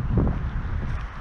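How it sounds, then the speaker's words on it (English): Steady wind blowing hard against the microphone, a continuous low rumbling buffet with no other clear sounds. "A bit windy out here today, but still pretty nice clear skies."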